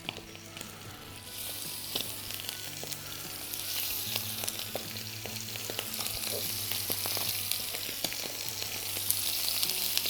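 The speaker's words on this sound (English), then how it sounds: "We're going to hear that sizzle as soon as we put down our livers." Chicken livers hit hot oil in a pan and sizzle steadily and loudly, a dense crackling hiss with occasional sharp pops and stirring clinks, no talking.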